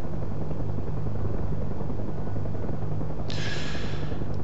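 Simulated UH-1H Huey helicopter in the DCS flight game settling down to land, a steady loud rotor and turbine drone with a low thumping hum throughout, joined near the end by a brighter hissing rush.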